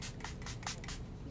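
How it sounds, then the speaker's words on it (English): Several quick hissing bursts of makeup setting spray are misted onto a face at close range, soft and breathy, with no talking. "I am going to spray my face with the Stay Spray"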